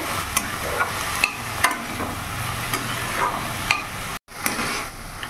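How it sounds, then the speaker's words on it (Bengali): Small chopped vegetables for a soup get stirred around a pan, with steady scraping and light clinks over a gentle sizzle, followed by a brief pause before the stirring resumes. "ভালো করে নাড়াচাড়া করে নিয়েছি।"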